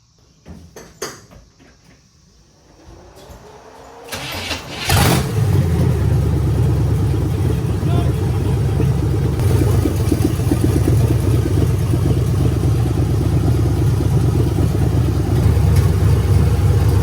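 An old Chevrolet C10 pickup cranks with a few clicks and churning tries, then catches and runs at a steady, loud, rumbling idle close by.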